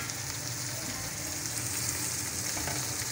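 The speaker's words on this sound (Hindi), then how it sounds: "कीमे को भूनना है जब तक इसका कलर ही चेंज होगा ना, उसको भूनना है प्याजों के साथ।" Minced meat fries with onions in a pan, giving a steady, even sizzle like light rain that stays close and continuous throughout with no talking.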